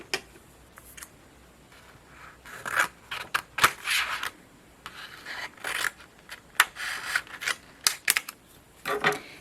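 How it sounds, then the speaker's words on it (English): Patterned paper trimmed for a coffee cup card, a string of short crisp cutting and slicing strokes in uneven bursts, close and fairly quiet, with no talking. "So I'm going to go ahead and trim this one down."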